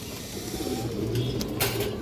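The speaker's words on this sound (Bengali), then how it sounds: "বড় সাইজের একটা মাদি কবুতর" A large female pigeon coos softly at close range for a couple of seconds against a steady background hum, with no voices.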